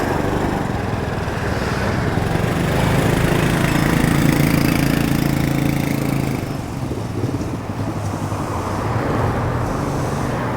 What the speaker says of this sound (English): We have got a lot of motorcycles on the road now.